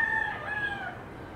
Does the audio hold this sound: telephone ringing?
no